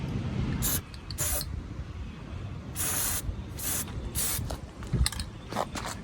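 Plasti Dip rubber coating sprayed from a can onto metal in several short hissing bursts, with brief pauses between them, close by over faint background noise.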